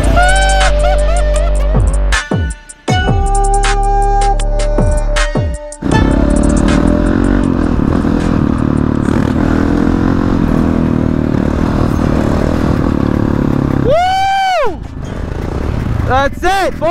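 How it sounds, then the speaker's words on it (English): A motorcycle pulls wheelies at sunset in Mexico, its engine revving hard and wavering in pitch, with loud passes, brief cutoffs and a rising, falling whine near the end while people shout and cheer over it. "Sunset wheelies in Mexico, baby!"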